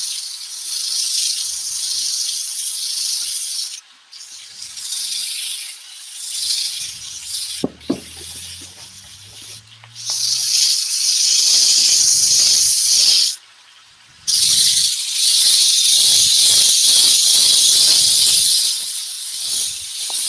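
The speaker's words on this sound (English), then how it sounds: "Now we use Hermes sandpaper. It's cloth backed" Wood spinning on a lathe is sanded with cloth-backed Hermes sandpaper, giving a loud, continuous abrasive hiss and rub close by, broken by a few brief lifts of the paper and a soft knock.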